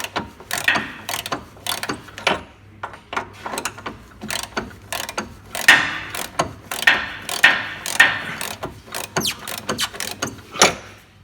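A spanner works on a seized front suspension arm bolt of a Smart Fortwo, giving close, irregular ratcheting clicks and sharp metallic knocks in quick bursts, with no talking.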